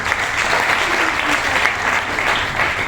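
Steady, dense applause from an audience at a seminar on income and company joinings, loud and continuous throughout with a faint murmur of voices beneath the clapping.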